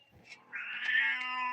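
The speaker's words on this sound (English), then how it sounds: "Quiet little pussy cat, I hear you." A cat meows in a drawn-out, rising call lasting over a second, close and clear after a couple of fainter sounds in an otherwise quiet indoor room.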